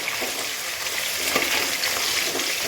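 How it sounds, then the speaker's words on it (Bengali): Katla fish pieces fry in hot oil in a pan, giving a dense, continuous close-up sizzle with fine crackling and a faint stir midway, with no voices. "এখানে কাতলা মাছটা ভাজছি একটু উল্টে দিলাম"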